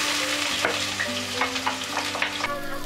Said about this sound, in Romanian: Vom începe să călim ceapa